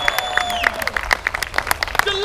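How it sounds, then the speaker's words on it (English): Festival crowd applauding the Knights of Too Much Coffee at the Duke's court, with scattered claps and cheers in a busy, bright mix under voices and tonal sounds. "Let's have one more round of applause for the Knights of Too Much Coffee!"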